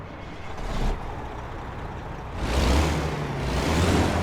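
A Kenworth W900 truck engine turns over in American Truck Simulator, a low diesel rumble that swells briefly, settles, then surges louder again with a hissing, air-like roar near the end.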